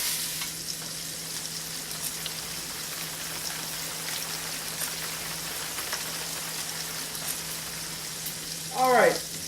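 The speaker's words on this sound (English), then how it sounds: "we're just going to keep the pork moving in the pan" Ground pork browning in a pan for a gluten-free spaghetti casserole, sizzling in a steady, even hiss from start to finish, with a brief voice-like sound rising just before the end.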